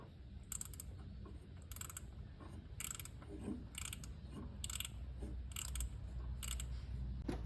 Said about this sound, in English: the ratchet spanners make light work of tightening it up